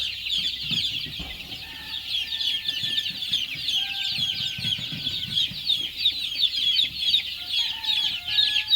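Chicks cluck and chirp in a busy, continuous chorus of high peeps, close and fairly loud, with a few lower clucking notes underneath.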